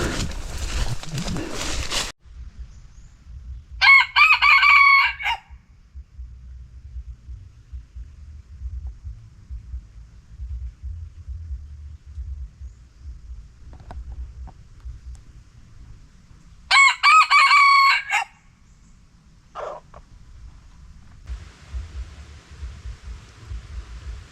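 A rooster crows twice in loud bursts with a short cluck after, among quiet stretches of low background noise, heard in a forest setting without talk.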